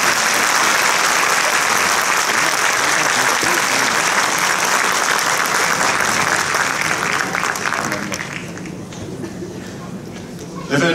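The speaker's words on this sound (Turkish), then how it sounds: "Alkışlarınızla tutulun" Audience applause at a special concert with ney and rhythm-instrument players, a dense, sustained crowd clapping that stays loud for about eight seconds, then thins and softens toward the end.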